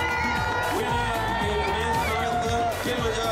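A crowd cheers at the stadium finish of the 2013 Kilimanjaro Marathon as the leading runner comes in: a loud, continuous roar of shouting and whooping voices, with higher children's cries mixed in, sustained without pause.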